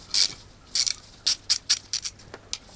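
5 mm ratchet loosening a small screw on a Ford Mustang fuel pump, a string of about eight quick close clicking bursts in an uneven rhythm, with no voices.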